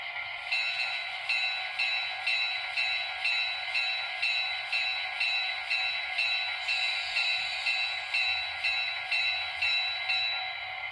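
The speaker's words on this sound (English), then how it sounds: "Function 1 is the bell." An Atlas EMD GP7 HO-scale model locomotive rings its sound-decoder bell in a steady, even clang repeated about every half second, alone and without talk.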